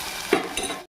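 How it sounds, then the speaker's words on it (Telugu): Chopped onions and three small tomatoes frying in a pan for ridge gourd masala curry, with a short sizzle and a couple of stirring scrapes, close and brief before cutting to silence. "బాగా ఫ్రై చేసుకుందాం."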